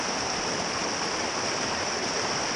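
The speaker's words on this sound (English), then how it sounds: "You got a lot of water moving around." River water swirls and rushes steadily through an eddy, a continuous broadband wash of flowing current, fairly loud and close, with no voices.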